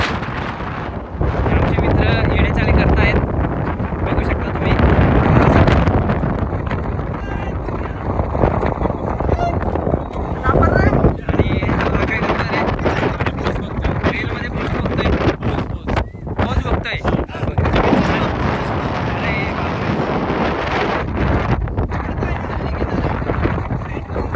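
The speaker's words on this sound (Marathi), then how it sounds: "आज थंडी हवा चल रही है" Cold wind blowing outdoors in Lonavala, a steady heavy roar buffeting the microphone throughout with a voice talking faintly in the background.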